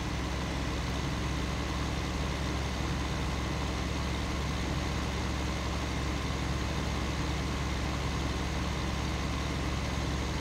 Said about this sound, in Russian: Тракторок у нас резвенький.